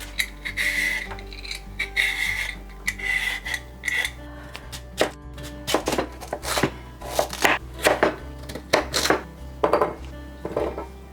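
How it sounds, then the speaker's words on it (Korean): Sweet potato is prepared for cheese sticks in a kitchen, with scraping and rubbing strokes followed by a run of sharp knife chops on a board. Light clinks of utensils sound close and clear, with no voices. "고구마 손질부터 할게."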